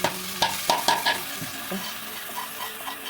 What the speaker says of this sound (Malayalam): അരി ഒന്ന് നല്ല വൃത്തിക്ക് വറുത്തെടുക്കാം